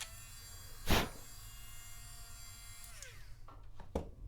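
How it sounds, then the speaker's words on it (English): A Dremel rotary tool runs at low speed grinding inside a resin kit part, giving a steady thin motor whine with a couple of sharp scraping bursts, close and alone. "just take the Dremel on a low speed and just grind on the inside a little bit"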